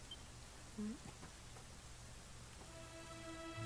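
Game rain falls in Dragon Quest XI as a steady soft hiss across the whole stretch, quiet and continuous, with faint tonal game sounds underneath.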